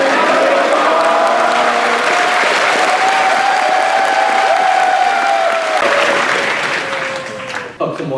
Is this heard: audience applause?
yes